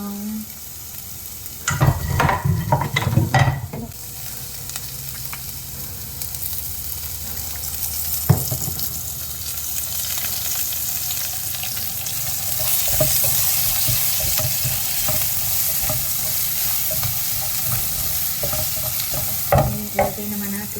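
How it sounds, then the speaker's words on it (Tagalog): Onion and garlic sauté in oil in a pan, a steady sizzle with stirring scrapes, broken early and at the end by louder clattering bursts and a brief running-water sound, close up, with no talking. "Igisa na natin ating sibuyas, bawang."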